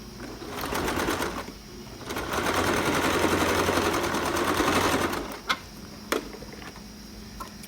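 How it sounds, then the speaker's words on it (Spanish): A sewing machine stitches a basting seam on a sport collar in two loud continuous runs separated by a brief pause, followed by a few isolated mechanical clicks as it stops. "lo pongo por el lado del revés y coso el hilván"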